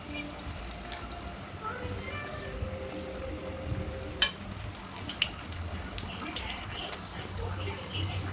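Banana flower vada sizzle softly in hot oil while being stirred, a low steady bubbling with faint clinks of a utensil, under occasional talk.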